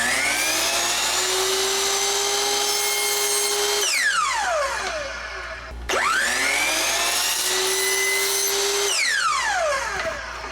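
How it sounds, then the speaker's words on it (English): A power saw cuts the end of a wooden board for a DIY harvest tray, its motor whining steadily before winding down, then starting again for a second cut and spinning down once more, loud and close. "So we'll cut the other end, blade up right with the end of the board"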